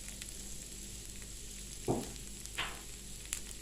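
Mackerel fried rice with cha-om stir-frying in a pan, a constant soft sizzle broken by a few quick scraping stirs of the spatula, close and moderately quiet.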